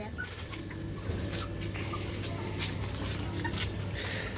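Chickens in a backyard coop feeding on chicken pilaf, with soft clucks and scattered bird calls over a low, steady background rumble, fairly faint and without talk.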